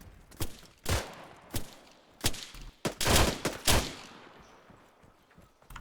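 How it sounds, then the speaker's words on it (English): A PKP machine gun firing in Arma III, several short loud bursts and single heavy shots spaced irregularly, close by and echoing, with no talk. "It's a PKP gun."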